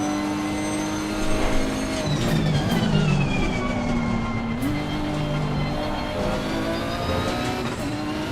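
A Bentley GT3 race car engine in Assetto Corsa Competizione, a loud sustained whine that rises and falls through gear changes and downshifts, with another car's engine nearby.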